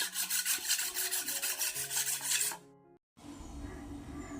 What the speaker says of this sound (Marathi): धार करा सुरीला